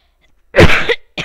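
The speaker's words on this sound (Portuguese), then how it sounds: "Uma tosse." One sharp, close cough sounds after a brief silence, followed by a short second burst.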